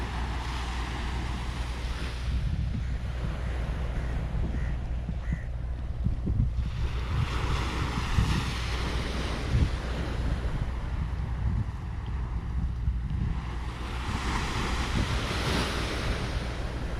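Sea waves surge and wash onto a beach in Thrissur, Kerala, under steady wind buffeting the microphone, with swells building roughly every few seconds in a continuous, fairly loud roar.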